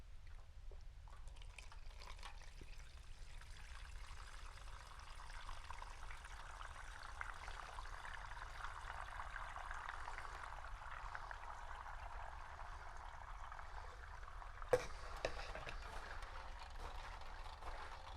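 Water pours steadily into plastic containers for a long stretch, simulating rain on soil, a soft continuous trickling and splashing, fairly faint, with one brief knock partway through.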